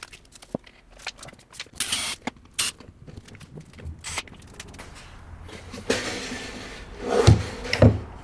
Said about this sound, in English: just going to take off this film here, this double-sided tape